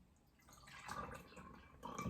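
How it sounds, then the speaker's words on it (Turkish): Orange juice is poured into a glass for a coffee drink, a soft, close liquid trickle that swells briefly and then trails off over about two seconds. "Öncelikle portakal suyumu tarif bardağıma döküyorum."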